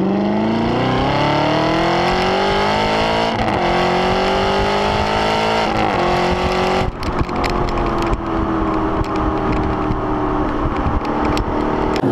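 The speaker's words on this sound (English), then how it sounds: "I'm going to drop into second, 30 miles an hour, and foot down." An Aston Martin V8 Vantage S pulls hard in second gear from about 30 mph, the V8 note climbing steadily and loud close by, with a brief lift and a gear change partway through before it builds again.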